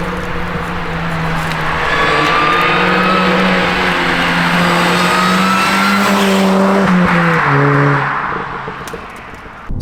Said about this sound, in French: le sifflement du compresseur